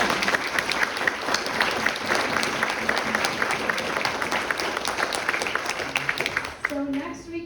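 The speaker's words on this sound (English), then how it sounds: "Let's give Captain Dan one last round of applause." A lecture-series audience applauds after a talk by a Columbia River bar pilot, with loud, even clapping sustained for several seconds before it fades out and a voice begins speaking.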